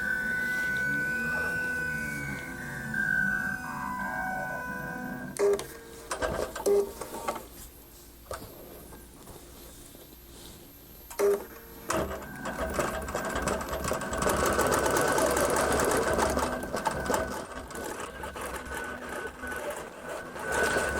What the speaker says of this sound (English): We just press move to start and it's going to quilt it out.